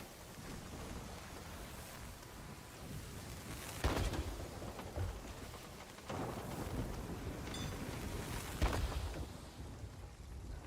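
A video game storm scene with steady rain and wind noise and a couple of rolling thunder crashes, continuous and fairly loud with no talk.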